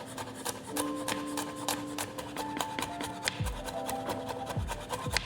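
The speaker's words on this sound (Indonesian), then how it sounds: "Bawang putihnya kita cincang halus." Garlic finely minced with a knife on a cutting board, rapid regular tapping chops in a steady close rhythm, with no talking.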